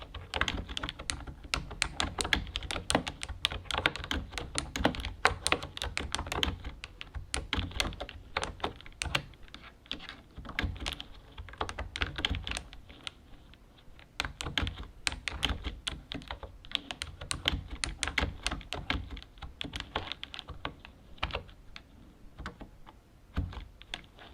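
Fingers type steadily on an orange computer keyboard, producing dense, close, crisp key clacks in an irregular, unbroken flurry. The typing runs throughout with only slight pauses and no talking.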